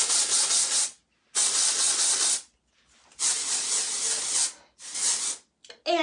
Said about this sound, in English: I'm just going to spray a little bit on it.